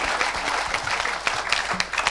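A church congregation claps and applauds together in a hall, a dense, steady burst of many hands close by that lasts a couple of seconds.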